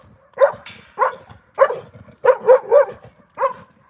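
A dog barks and whimpers in a run of about eight short, yelping bursts, some paired, with brief quiet gaps between them. The sound is close and clear, with no talking.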